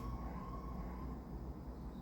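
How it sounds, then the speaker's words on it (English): A distant siren wails faintly over low rumbling background noise, a thin steady tone drifting slightly in pitch. "I have a weird siren going off."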